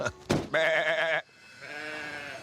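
Sheep and goats grazing in an open field bleat twice in quick succession, a loud wavering cry followed by a softer, longer one, fairly close.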